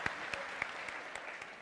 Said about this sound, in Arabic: صفقوا عليه صفقوا عليه برافو برافو برافو